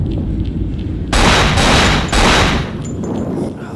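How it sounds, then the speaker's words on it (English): Grenade launcher shots in the horror game Cold Fear: a loud, broad burst of firing with several quick, heavy blasts in succession, standing out clearly over a low background rumble. "I keep snap firing the grenade launcher thinking it's a pistol"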